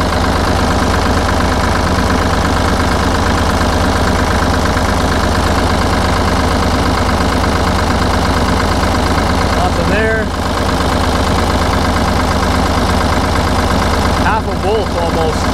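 A Ford 4000 tractor with a generator that is not charging idles with a loud, steady, close diesel chug, and someone talks over the engine.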